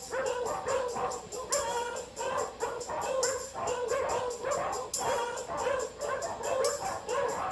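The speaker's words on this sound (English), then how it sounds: "It sounds as though there are many dogs nearby." Many dogs barking, yipping and whimpering at once in a dog pound, a continuous overlapping chorus at moderate distance with no talking.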